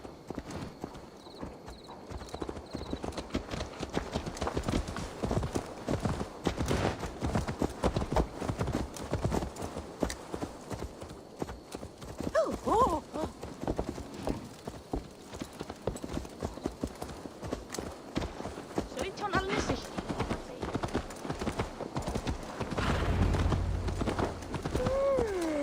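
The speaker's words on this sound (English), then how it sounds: "Let's return the horse" Horse hooves clip-clop steadily through Assassin's Creed Valhalla, a continuous rhythmic trot that runs under the game's ambient sound, with a brief whinny or voice partway through.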